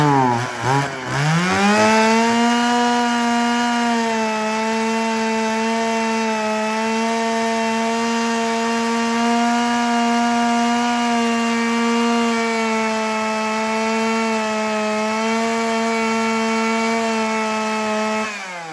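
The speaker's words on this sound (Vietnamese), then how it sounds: "hàng Sinewa là hàng thương hiệu mà máy chạy tua rất là cao và nghe tiếng máy rất là thoáng nhá" A Japanese Shindaiwa chainsaw runs at high, steady revs for nearly twenty seconds after a brief rev-up at the start, its loud, even buzzing droning close by with no speech over it.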